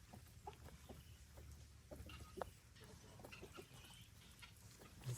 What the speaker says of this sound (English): It was a weird bird noise.